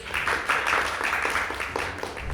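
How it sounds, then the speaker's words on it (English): An audience applauds at a corporate brand awards event as a co-founder steps onto the stage, a steady wash of dense, even clapping filling the whole stretch at moderate volume with no voices over it. "Let's hear a round of applause as he steps on stage, please"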